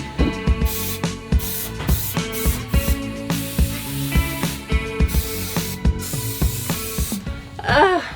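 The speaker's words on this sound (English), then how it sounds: "we spray it on a piece of cardboard outside the van" Spray adhesive hisses from an aerosol can onto a piece of cardboard outside a Mercedes Sprinter camper van during a 3M Thinsulate install, in a rapid series of short, close bursts.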